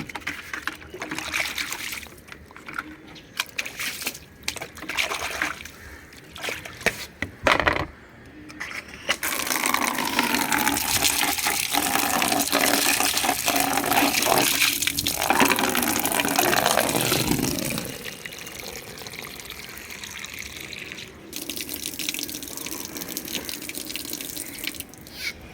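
Tap water running into a sink while bowls are washed for feeding birds, a steady splashing stream with clatter and trickles, loudest in the middle stretch then easing to a softer flow.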